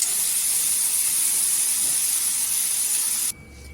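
Stuffed green chillies fry in hot oil with a steady, loud, broad sizzling hiss that fills the clip, then drops abruptly to a quieter sizzle near the end.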